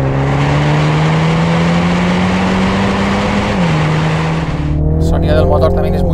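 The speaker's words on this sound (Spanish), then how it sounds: "El sonido del motor también es muy racing, pero oye, podría ser todavía más." A MINI John Cooper Works GP with a 2-litre four-cylinder engine holds a loud, steady drone that climbs slowly, dips briefly, then shifts to a lower, rougher tone near the end, with a voice talking over it throughout.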